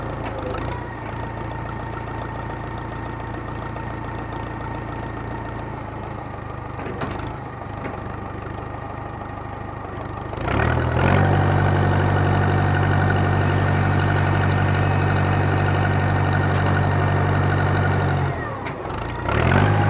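Diesel engine of a 50-year-old backhoe runs at a steady idle, then revs up loud and strained for several seconds while a hydraulic cylinder is cycled, before dropping back.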